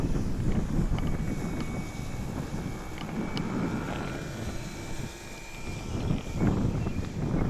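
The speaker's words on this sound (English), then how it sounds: "It's kind of windy" Gusty wind buffets an RC airplane flying field, a rough, rumbling roar that swells and dips throughout, with a faint high engine whine running through the middle.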